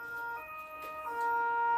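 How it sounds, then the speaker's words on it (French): Ambulance and police sirens wail outside, heard faintly and steadily through a wall or window with their pitch rising and falling, and no one speaks. "Les ambulances, la police, la totale."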